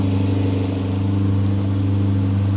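A Lamborghini Temerario supercar with a 907 hp 4-litre V8 drones loudly and close by on a London street in the rain, its deep engine note holding steady throughout with no voices.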